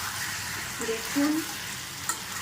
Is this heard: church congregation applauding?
no